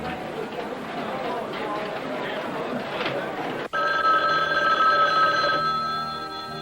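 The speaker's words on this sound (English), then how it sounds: "Phone." An old telephone bell rings with a bright, metallic jangle that cuts in abruptly after a stretch of background noise and crowd bustle, loud and sustained for a couple of seconds.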